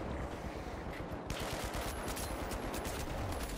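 Continuous automatic gunfire from the video game The Finals, a dense unbroken rattle of shots with some sharper cracks after the first second, close and fairly loud with no talking.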